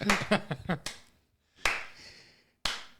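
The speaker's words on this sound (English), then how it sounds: "I just wanted to clap like the Joker" Hand claps ring out as sharp, isolated cracks, spaced about a second apart in a quiet room, following a short stretch of talking.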